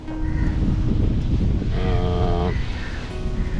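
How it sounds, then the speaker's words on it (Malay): Strong wind buffets a rocky shore during fishing, a loud continuous roar with rushing gusts, while a sustained tonal drone rises briefly in the middle. "Angin pun kuat."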